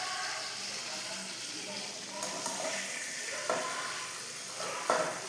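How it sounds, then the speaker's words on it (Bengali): Big fish fry in a kadai on a gas stove, a continuous oily sizzle with occasional spatula scrapes and knocks, while someone talks over it. "সবগুলো ভেজে নিলাম একসাথে"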